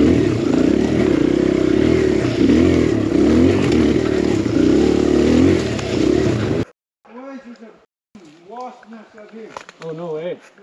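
An enduro motorcycle on a bald, non-sticky tyre roars loud and steady for about six seconds while being ridden, then cuts out abruptly, and someone talks in short phrases afterward.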